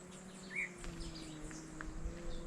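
Several small wild birds chirp and tweet intermittently from a distance in the countryside of Antioquia, Colombia, high calls scattered over a steady outdoor background hum.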